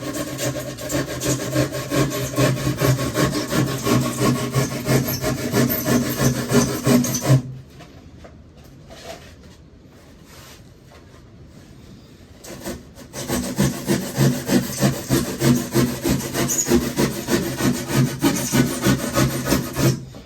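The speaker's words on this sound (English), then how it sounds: "it's easier just to cut the section off instead of sawing around the corners" Rasping strokes of a hand saw cutting through a wooden board, steady and close for several seconds, then a pause before the sawing resumes.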